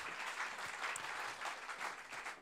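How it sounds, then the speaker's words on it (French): A TV studio audience applauds two children after their performance, a steady, dense wash of clapping that fills the short stretch at moderate, slightly distant level with no talk over it. "applaudissements pour Marc-Olivier et Dorine."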